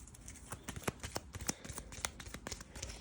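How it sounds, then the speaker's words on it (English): Board game event cards from Tainted Grail being shuffled by hand close up, a quick series of crisp riffling snaps and slides in an irregular rhythm, fairly quiet with no talking. "We'll shuffle some of these in."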